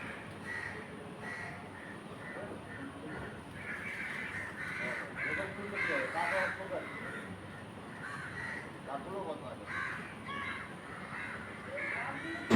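Crow caws near a peacock at the Padmanabhaswamy temple grounds, repeated calls rising through a steady busy outdoor background with some distant voices.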